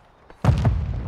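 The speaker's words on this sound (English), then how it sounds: "Grenade out." A grenade goes off in Call of Duty multiplayer: one sudden, loud, booming blast after a near-silent moment, followed by a rolling, rumbling tail with a second thump inside it.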